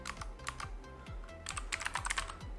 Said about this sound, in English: So we're just gonna type these in manually.